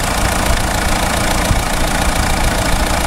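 A Renault Scenic F8T diesel engine idles in a workshop with a steady, dense low rumble and faint knocking texture, continuous and close with no talk.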